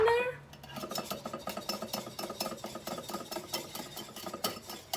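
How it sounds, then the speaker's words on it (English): Eggs and lemon juice being whisked in a pan for keto mushroom eggs Benedict, a steady run of quick metallic taps and scrapes of the whisk against the pan, close and fairly even throughout. "just make sure that you're whisking it constantly for about 30 seconds"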